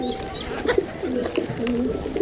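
A pigeon at a home loft coos in a series of low rolling calls, several rhythmic phrases close by, with faint background chatter and clicks.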